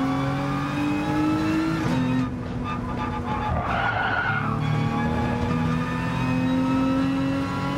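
A race car in GT Sport accelerates at full throttle, its engine whining steadily and climbing in pitch, with a brief tire squeal midway before the revs build again.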